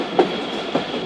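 The Jaffar Express, travelling from Peshawar Cantt to Lahore, rolls along the track near a bridge, producing a steady loud rumble with rhythmic wheel clicks over rail joints, heard close from inside.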